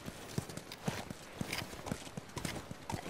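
Horse hooves clip-clop at a steady walking rhythm in The Last of Us Remastered video game, about six distinct close hoof strikes over a soft ambient background.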